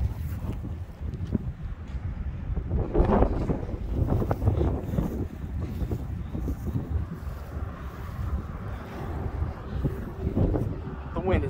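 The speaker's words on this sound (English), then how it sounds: "Wind is nuts" Strong New Mexico wind buffets the microphone in a steady low roar with gusting surges, loud and close, while a person speaks over it.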